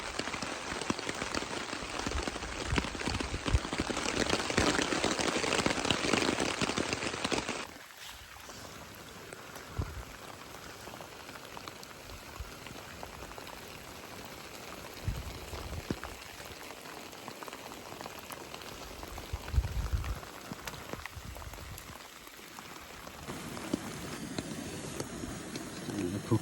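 Rain falls on the river flats, first a dense, loud hiss for several seconds, then a softer steady patter with scattered louder drops, while a person talks over it.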